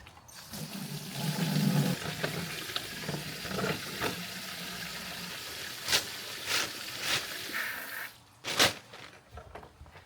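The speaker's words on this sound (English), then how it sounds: "So we're going to fill the bucket up with water" Tap water gushing into a bucket to mix multi-finish plaster, a steady rushing fill with a few sharp knocks and splashes toward the end.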